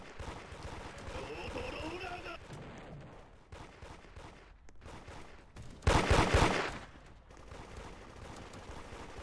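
Automatic AK gunfire in the Roblox game Da Hood, a loud dense burst around the middle of the clip with scattered quieter game noises and talk before and after.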